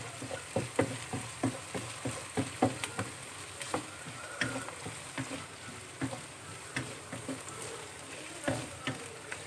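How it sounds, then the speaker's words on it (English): Ginger garlic paste fries with potatoes in a pan for simple fried rice, a steady sizzle broken by a regular beat of spatula strokes scraping the pan, close and moderately loud with no talking. "I've gone in to add the ginger garlic paste, just a little as well."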